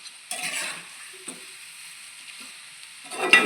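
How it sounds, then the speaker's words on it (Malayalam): Beef chilli frying crisp in a hot pan, a soft steady sizzle with a few scrapes of stirring and a louder burst of sizzling toward the end. "അപ്പോൾ ചട്ടിയിലെ ആ ചൂടും ഇതെല്ലാം കൂടെ ആയിട്ട് നല്ലപോലെ മൊരിഞ്ഞ് വരും"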